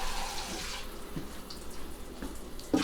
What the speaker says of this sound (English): So I'm going to fill up this pot so that it covers